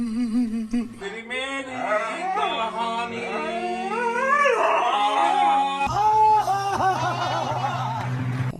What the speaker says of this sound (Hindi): ये कुत्ता तो भौंक रहा है